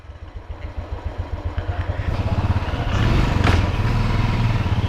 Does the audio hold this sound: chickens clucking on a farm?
no